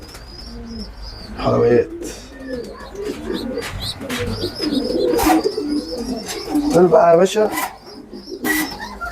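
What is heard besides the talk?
pigeon squabs cooing in loft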